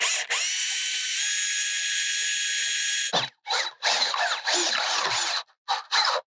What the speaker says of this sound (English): drill the 4 attachment holes through the leaf catcher into the gutter